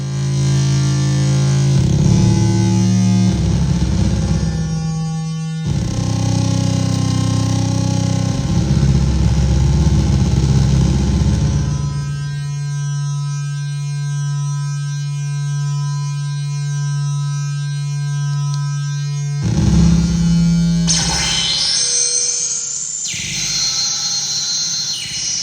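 Eurorack modular synthesizer drones loudly and steadily, shifting between a thick buzzing low tone and brighter, harsher textures, with abrupt changes in timbre and no voices.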